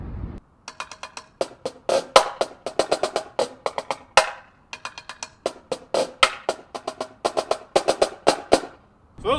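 A drum cadence phrase played at full tempo on a snare-type drum, quick crisp strokes, flams and brief rolls in a tight repeating groove, close and unaccompanied.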